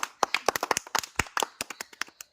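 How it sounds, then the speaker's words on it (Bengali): A small group of people claps in an uneven burst of sharp, distinct hand claps, close and clear, lasting a couple of seconds during a game at an outdoor gathering. "একটা হাততালি হয়ে যাক"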